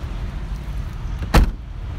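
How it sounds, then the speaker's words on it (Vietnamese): Trunk lid of a Toyota Celica slammed shut outdoors, a single solid thud with a short rattle, heard alone against low background hum. "bây giờ mình sẽ cho các bạn nghe về tiếng đóng cốp"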